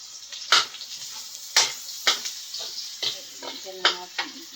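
Onion and garlic sizzling and popping in a hot pan while pancit is cooked, with repeated stirring scrapes and spatters at close range and faint talk in the background.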